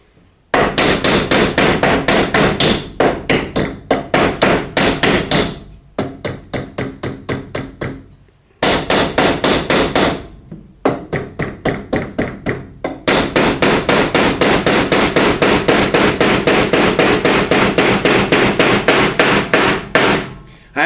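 Pallet wood being hammered with a small hammer while building a paint drying stand: loud, close, rapid runs of sharp blows in long bursts, broken by brief pauses.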